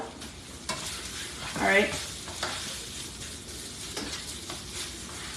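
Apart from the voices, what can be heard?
stirring hamburger meat mixture with bacon and onion soup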